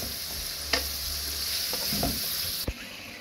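Green chillies, tomatoes and ground spices sizzle with onions in a pan, a constant close frying hiss broken by a few sharp clinks and scrapes of stirring.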